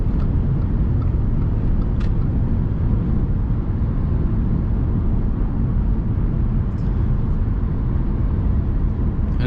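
Steady, loud engine and road roar from an Audi A4 B8 with a 3.0 TDI 245 hp diesel, driving at speed, with wind rush and constant low rumble and no talk.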